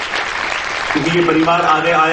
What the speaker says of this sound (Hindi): उनके लिए भी जबरदस्त तालियां हम बजाएंगे